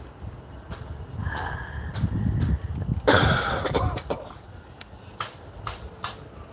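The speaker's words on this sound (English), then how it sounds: "I did say the horrendous cough was lingering." One person coughs with a lingering, harsh cough, several separate bursts, one loudest near the middle, with quieter breathy sounds and throat noises between them.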